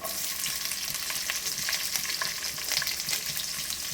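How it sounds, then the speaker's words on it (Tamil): Onions frying in a pan for a village-style fish curry, a dense bright crackling sizzle with light stirring rustles, steady and close throughout. "வெங்காயம் போட்டு நல்லா மிக்ஸ் பண்ணுங்கள்."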